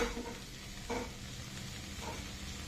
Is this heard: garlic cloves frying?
yes